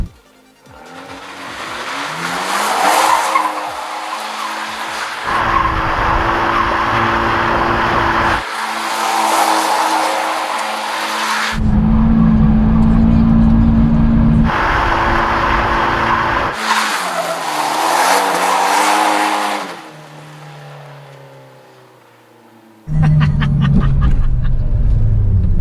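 An Abarth 124 GT drifting on a track, with loud, sustained tire squeals and skids rising and falling over a revving engine in several long bursts, close and intense.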